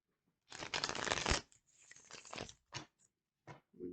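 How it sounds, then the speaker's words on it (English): A deck of tarot cards is shuffled in several bursts of crisp riffling and flicking, close and clear with short pauses between. "Let me get a good shuffle."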